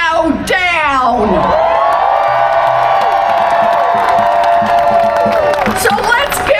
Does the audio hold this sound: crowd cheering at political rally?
yes